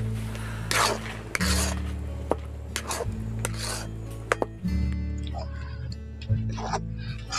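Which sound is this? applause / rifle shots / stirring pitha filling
stirring pitha filling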